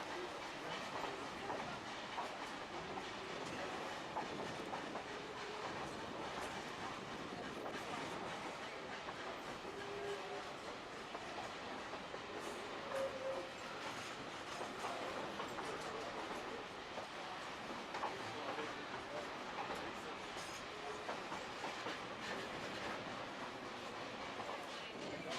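A Durango & Silverton narrow gauge train runs on rails toward the Needleton water stop, with steady clickety-clack of wheels over the track and a continuous rumbling roll heard from a moderate distance.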